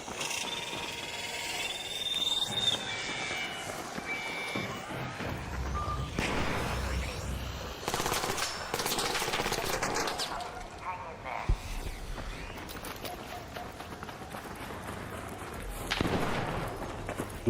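Gunfire in the video game Arc Raiders, scattered distant shots and booming bursts among rocky terrain, irregular and fairly faint, mixed with game ambience and occasional talk.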